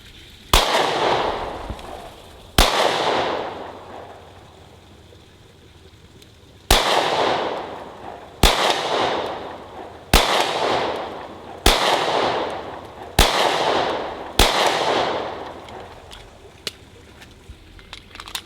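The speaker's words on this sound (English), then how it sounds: "This is the two-tone CPX-2. Go ahead and fire it up on that far target over there." A two-tone SCCY CPX-2 9mm pistol fired outdoors at a distant target: eight sharp, loud single shots spaced a second or two apart, each with a fading echo, no talking.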